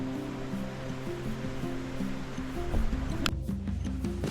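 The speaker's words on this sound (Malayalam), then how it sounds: "അങ്ങ് മുകളിൽ നിന്ന് ഒഴുകി വരുന്ന ചെറിയൊരു പുഴ" A small stream flowing down from the hills gives a steady, close rushing wash of water, with a tonal, melodic backing running through it.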